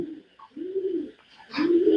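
A male racing pigeon coos up close in a series of low, rounded, rolling calls with short pauses between them, loud and clear with no talking over them.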